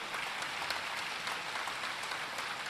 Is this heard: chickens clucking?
no